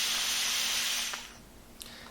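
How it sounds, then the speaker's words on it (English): A handheld steamer blasting a continuous hiss of steam over a mattress during bed bug treatment, steady and loud before cutting off abruptly, leaving faint clicks and a light tap afterward. "Anytime you steam a mattress"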